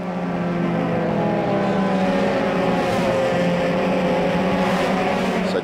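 Euroformula race cars accelerating during qualifying at the Monza circuit in Italy, a loud, continuous high engine drone holding steady throughout with layered whining tones.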